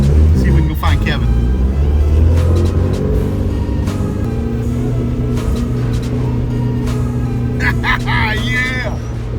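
A Suzuki Samurai running a swapped 1.6L 16V engine idles with a steady loud rumble close by, while someone talks over it and a few brief clanks cut through.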